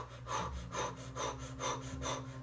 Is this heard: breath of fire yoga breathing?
yes